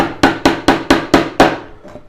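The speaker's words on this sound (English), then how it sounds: "hammer the nails in first through the first piece of wood" Nails driven through a wooden shelf board with a hammer while building a bench hook: six sharp, evenly spaced blows ring out loud and close, then a fainter final tap.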